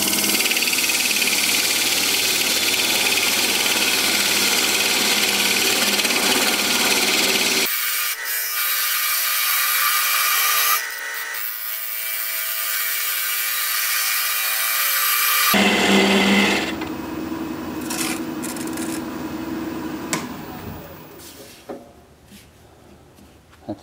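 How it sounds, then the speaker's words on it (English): Russian olive wood spinning on a lathe as a 1/8-inch parting tool squares up the end of a spindle, giving loud, continuous cutting and rubbing with a motor hum and abrupt changes in tone as the cut changes. "Now I'm just going to use a 1/8-inch parting tool to square up the end of the piece"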